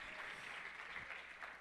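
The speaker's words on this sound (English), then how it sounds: "Give yourselves a big round of applause" Short burst of audience applause at a community gathering, steady dense clapping from a group throughout, moderately quiet and slightly distant, tapering toward the end.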